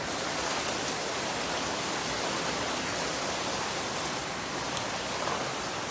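A steady roar of heavy rain fills the air outdoors, broadband and unbroken from start to finish, with a few faint drop ticks standing out over the dense hiss and no talking.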